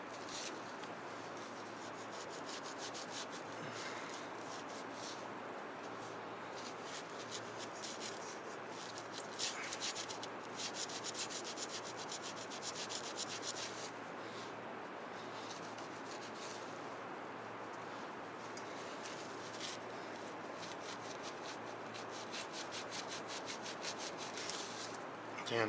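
A vinegar-soaked cloth rubs rust off a chrome MagnaFlow car exhaust tip, giving a steady, continuous scrubbing and wiping hiss close by with no talking.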